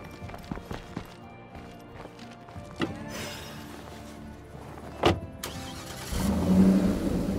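A car driven in the video game State of Decay 2 gives a steady engine hum with a few knocks and thumps, swelling louder near the end, with faint talk at times.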